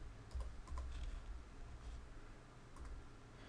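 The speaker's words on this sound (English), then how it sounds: "So I start typing blue." Quick bursts of typing on a computer keyboard, a handful of light close key clicks clustered in short runs with small gaps, fairly quiet and without any talk.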